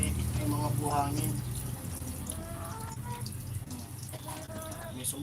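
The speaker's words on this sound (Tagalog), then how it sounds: "Nasala ko yung tubig dito kasi may mga buhangin." Water splashing and trickling as it is filtered to strip out sand, a continuous close wash and drip, with people talking over it throughout.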